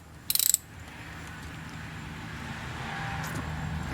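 A torque wrench clicks rapidly in a short burst of four or five ratchet snaps while checking a CV shaft bolt on a HMMWV geared hub, followed by a low steady background hum.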